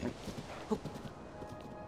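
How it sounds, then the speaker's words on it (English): Hooves clip-clop quickly from a horse in Zelda: Tears of the Kingdom, a brief whinny rising partway through over a muffled game soundscape, close and moderately loud. "I don't know why the horse gets so scared for nothing."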